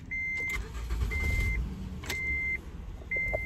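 A car engine idles quietly in a parked vehicle, a low rumble under repeated high electronic chime tones that sound in steady intervals, with no talking.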